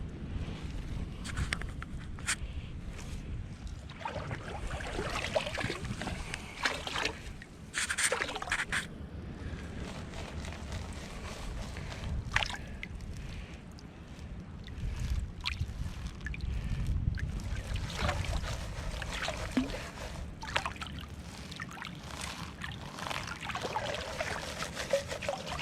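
Gold panning in Michigan: water and gravel sloshing and trickling around a pan, with continuous swirling washes, splashes and dribbles close to the microphone and some wind buffeting, no talking.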